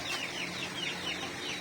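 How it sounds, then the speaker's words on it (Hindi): Chickens, small chicks and roosters cluck steadily on a farm, a dense, continuous chorus of overlapping calls at moderate distance. "ये चूचे भी हैं छोटे छोटे, और पीछे भी हैं मुर्गे वगैरह"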